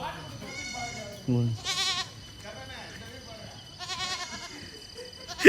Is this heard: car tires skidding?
no